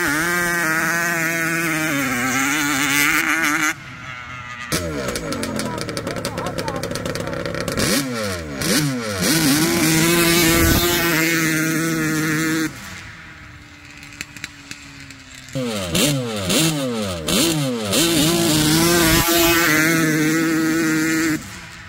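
A motorcycle engine fitted with CPI revs hard on warm test runs at about 165 degrees engine temperature, with loud repeated throttle blips and rising, falling pitch sweeps, separated by brief gaps and idle stretches.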